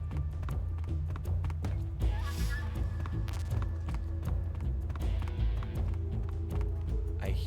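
Footsteps in the stealth game Metal Gear Solid 2: Sons of Liberty, a steady run of soft repeated steps under a low game background hum, with a voice talking over part of it.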